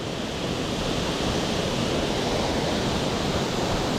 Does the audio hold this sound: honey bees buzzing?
no